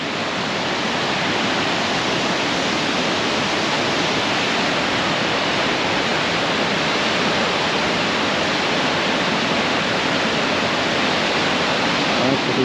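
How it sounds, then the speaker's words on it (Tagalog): Water pours steadily down a waterfall in a cold, deserted spot, a loud, unbroken broadband rush that fills the whole stretch with no voices. "Yung tubig papunta dito."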